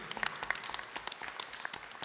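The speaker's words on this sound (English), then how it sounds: "Please clap for him." An audience at a Shravan celebration gathering claps in scattered, fairly faint applause, individual claps audible in an uneven patter from several hands.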